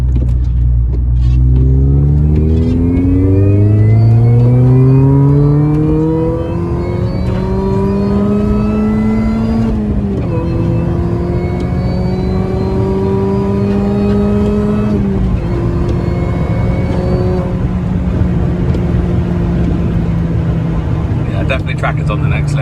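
Supercharged Mini Cooper S R53 engine revs up loudly and holds a high, rising whine with steady harmonics for many seconds, heard close with a strong droning tone throughout.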